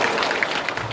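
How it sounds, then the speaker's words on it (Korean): Brief burst of dense audience applause at a Dongtan International High School admissions information session, steady and moderately loud, lasting about a second. "박수 부탁드리겠습니다."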